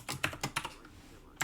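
Rapid computer keyboard typing while entering C# code, a quick run of crisp key clicks followed by a pause and one final keystroke.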